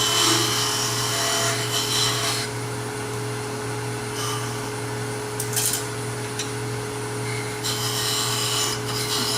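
Sandpaper rubbing a wooden box knob spinning on a wood lathe, a steady continuous rasp over the constant hum of the lathe motor, close and fairly loud with brief brighter surges of scraping.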